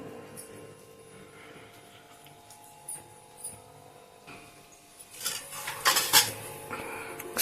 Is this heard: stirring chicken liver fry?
yes